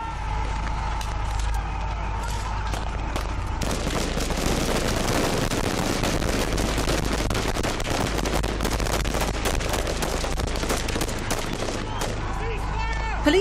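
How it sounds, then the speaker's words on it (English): Police firing automatic weapons on striking miners at a South African mine, heard as a loud, dense, continuous crackle of rapid shots that begins a few seconds in and runs unbroken to the end, with voices mixed into the din. "Police opened fire on the miners with automatic weapons"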